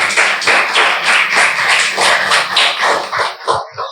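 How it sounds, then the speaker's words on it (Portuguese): A church congregation claps loudly in unison during a sermon, with sharp, evenly spaced bursts of clapping that keep a steady rhythm and thin out at the end. "Você pode aplaudir o Senhor?"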